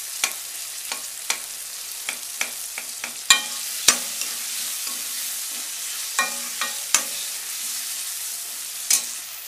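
Tomatoes stirred in a frying pan for a brinjal and potato curry: a soft sizzle under a series of sharp spoon scrapes and taps against the pan, close and unhurried, with no talk.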